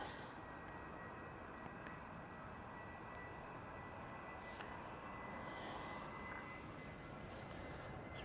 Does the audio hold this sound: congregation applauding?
no